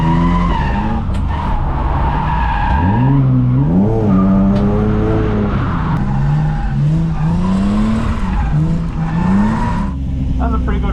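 A Ford Falcon with worn rear tyres and almost no grip, run at low cold pressures, tears around a track. Its engine revs hard and rises and falls under continuous loud tyre squeal, with a voice talking over it.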